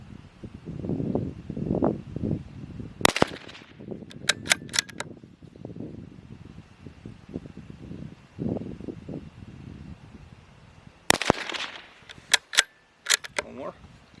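Sharp rifle shots from a CZ 512 semi-auto rifle, a cluster of cracks with mechanical clicks, then more shots later, under near continuous talk outdoors.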